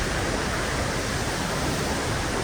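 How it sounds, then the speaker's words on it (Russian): Large waterfall about 30 metres high, heard as a steady, dense, full-range roar of falling water, loud and close, unbroken for the whole stretch with no voices. "Вот такой водопад."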